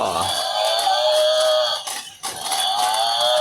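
A loud, synthetic cow moo sustained for a couple of seconds, briefly breaking off, then droning on again close by.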